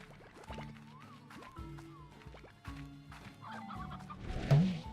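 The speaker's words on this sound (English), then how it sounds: "I think that was a briar hen." A briar hen in the video game Slime Rancher gives several short clucks in a row, mixed with other game sounds, and it ends in a louder burst near the close.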